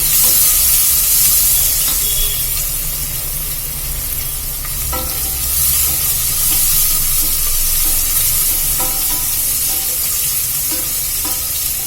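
Onions and crushed garlic cloves sizzle and fry in a pan for a quick kids' lunch, a steady loud hiss with occasional stirring scrapes and clinks throughout, no voices.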